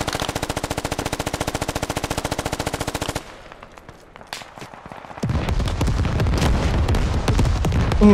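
In the video game Squad, fast, steady machine gun fire rattles for about three seconds, then quieter scattered shots follow, and a loud rumbling roar of battle noise takes over.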